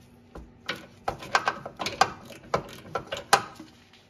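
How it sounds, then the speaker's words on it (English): A 12mm socket ratchet clicks in quick, uneven bursts while loosening and spinning out bolts on a 2007-2012 Acura RDX front suspension, close and fairly quiet, with no talking. "Now use a 12mm socket to crack those bolts loose and spin them out all the way."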